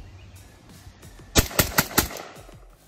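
Four loud gunshots ring out in quick succession from a Century Arms VSKA AK-47 rifle, evenly spaced about a fifth of a second apart, against a quiet outdoor background.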